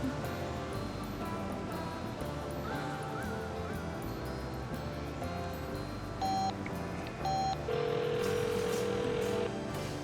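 A telephone being dialed: two short electronic key tones a second apart, then a longer steady tone, heard over a busy, continuous background.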